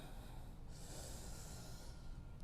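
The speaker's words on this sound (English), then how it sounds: "Take a big inhale and exhale." A deep inhale and exhale during an aerial glute, legs and lower core fitness class: soft, breathy airflow rising and falling over a couple of seconds, quiet and close with a faint hiss underneath.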